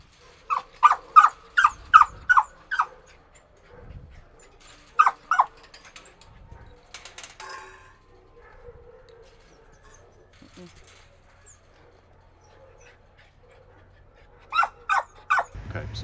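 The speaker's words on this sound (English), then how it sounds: "Okay, so yeah, I gave Angie a call after this little dog named Chaos was dropped off at our front porch a couple of weeks ago" A small puppy left on a front porch lets out quick bursts of high yips and barks, a rapid run at the start, a pair midway and another run at the end, with quiet stretches and faint sounds between.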